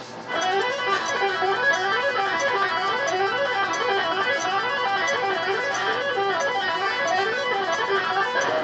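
A stringed instrument plays rapid odd-grouped tuplet runs that rise and fall in steady waves of notes, with faint string noise between the notes. The playing is clear and close throughout, with no talking.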